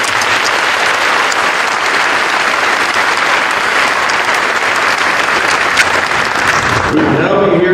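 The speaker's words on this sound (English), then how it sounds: "we'll give him a round of applause." A round of applause from an audience at a high school class night awards ceremony, dense steady clapping filling most of the clip before cutting off, followed by a brief voice near the end.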